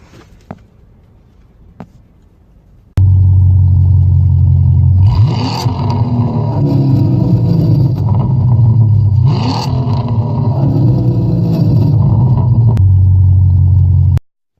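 A Chevrolet Camaro IROC-Z engine idles with a steady low rumble, then revs up loudly twice in quick surges before settling back to a loud, constant running drone.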